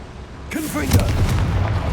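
A Confringo blasting curse goes off in a Harry Potter video game, a sudden broadband burst followed by a sustained rumbling roar that fills the rest of the moment; a voice speaks briefly over the start.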